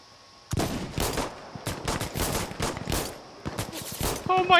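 Rapid pistol shots from the video game Insurgency Sandstorm, a dense run of sharp cracks in quick succession, loud and close, with occasional pauses between bursts.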